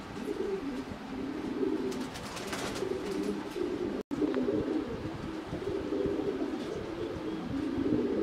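Pakistani Jaggla high-flyer pigeons coo in a loft, a continuous low rolling murmur of overlapping coos, close and steady, with a brief break midway and no talk.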